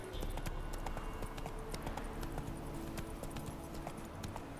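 Roach, a horse in The Witcher 3: Wild Hunt, trotting with steady, rhythmic clip-clop hoofbeats close up, continuous throughout with faint background ambience.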